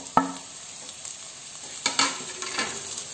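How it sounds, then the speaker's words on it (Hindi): Mashed vegetable chokha being stirred and mixed with fried onion and coriander leaves in a kadhai, giving a few soft scraping stirs and faint sizzles with quiet gaps between. "अब एकरा अच्छा से हम मिला देबे चोखा के"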